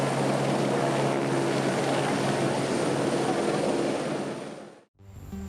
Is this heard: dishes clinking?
no